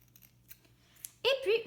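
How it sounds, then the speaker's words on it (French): Scissors cutting through craft stamps, a few faint snips close by before a voice starts speaking over the end. "vous allez prendre chacun des tampons et le couper au milieu"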